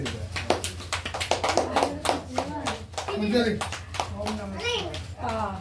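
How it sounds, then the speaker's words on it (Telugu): Family members clap together at a father's 60th birthday celebration, a run of sharp, fairly close hand claps with children and adults talking over them throughout. "క్లాప్స్."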